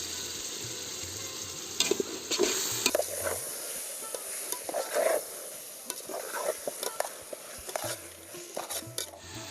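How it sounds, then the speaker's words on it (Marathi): About 1.5 kg of large chicken pieces sizzle in a hot pot for biryani while a spoon scrapes and stirs them in irregular bursts, close by and fairly quiet. "आणि आता परतून घेऊया"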